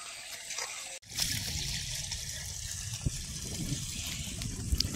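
A tap gushes steadily while items are washed at home for a puja on Ras Purnima. The water starts abruptly after a second and then keeps running, close and fairly loud, with small clinks now and then.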